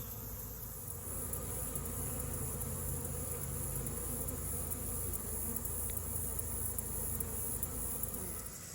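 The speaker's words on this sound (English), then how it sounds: "Today we're going to be talking about bee orientation flights." Honeybees buzz steadily on hive orientation flights, a dense, continuous swarm drone holding level throughout with no voices.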